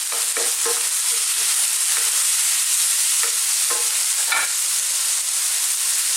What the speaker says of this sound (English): I'm also now going to add the garlic and ginger.